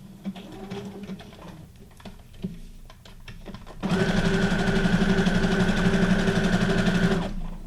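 A sewing machine stitching journal cards made from guest checks runs in a steady, fast whir for a few seconds after some light handling clicks and taps, close and loud with no talking.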